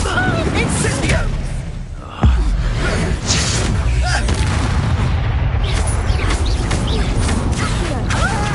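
An Incendio fire spell being cast in Hogwarts Legacy, a loud close whoosh and boom followed by rumbling crackles and clattering combat noise.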